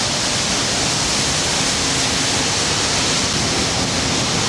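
Steady, loud broadband roar of cotton gin machinery and gas burners inside the Cross Creek Supima cotton gin, a continuous even rush with no breaks or voices.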